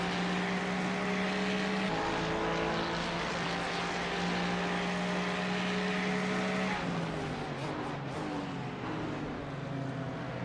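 A Ferrari race car in the iRacing simulator, running the 12 Hours of Sebring endurance race, holds a loud, steady engine drone before its pitch drops sharply as it sweeps past close by.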